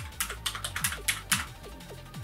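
Keys clatter rapidly on a computer keyboard during a Japanese typing game, an uneven burst of close, crisp clicks followed by a short pause and a few more taps.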